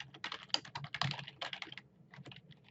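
Rapid keystrokes on a computer keyboard as an email address is typed, a fast irregular clatter of clicks in bursts, close and clear with no talking.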